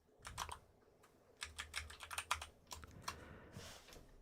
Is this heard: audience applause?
no